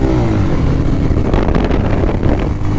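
Bajaj Pulsar 220F motorcycle engine droning steadily while riding at speed, with heavy low rumble and wind buffeting throughout, no voices.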